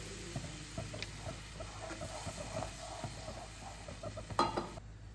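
Milk stirred into cooking flour in a pan for a creamy garlic chicken sauce: faint, steady sizzling with soft scraping stir strokes and a brief louder hiss near the end.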